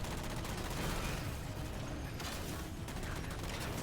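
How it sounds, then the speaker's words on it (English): Dense, continuous bursts of gunfire while shooting Watchers in a Halo video game, rapid mechanical firing rattling almost without pause at steady loudness. "This is just me shooting watchers."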